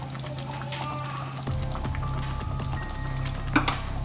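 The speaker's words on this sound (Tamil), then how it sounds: "இப்போ ஒரு அரை எலுமிச்சம்பழம் அதில் புழிஞ்சதை ஊற்றிக்குவோம்." Juice from a squeezed half lemon pours into thick chana masala in a pan, making a soft wet trickle and squish over a steady low kitchen hum, without speech.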